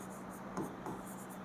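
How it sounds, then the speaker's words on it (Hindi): A pen scratches out a math equation in a few faint, soft strokes over a low hum, with no talk. "अब लिखेंगे"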